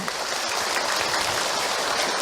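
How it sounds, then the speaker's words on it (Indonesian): Audience applause for Ustaz Hilman at the close of a religious talk, a steady dense wash of clapping that stays loud and even throughout, with no voices over it. "Tepuk tangan untuk Ahilman"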